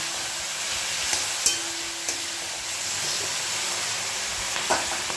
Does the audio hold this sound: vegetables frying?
yes